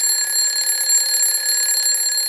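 Alarm clock ringing continuously, a loud, steady, high-pitched electronic tone held without a break for the whole stretch.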